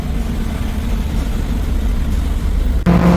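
An Alfa Romeo's engine roars steadily as the car climbs a mountain road toward Mount Kinabalu in Borneo, a loud continuous drone with no break until a brief dip near the end, followed by a slightly harsher surge.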